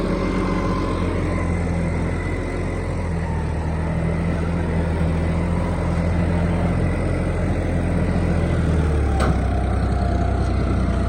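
A tractor engine labours steadily while hauling a loaded 19-foot trolley, a continuous low diesel rumble that holds close and even throughout, with no talk over it.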